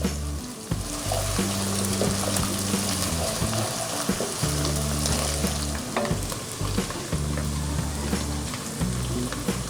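Whole garam masala frying in a pan gives a steady, close sizzle and crackle, with stirring scrapes throughout and no talk.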